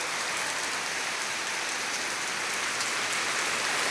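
Torrential downpour roars without a break, a thick, even wash of rain striking surfaces up close, loud and constant throughout with no speech.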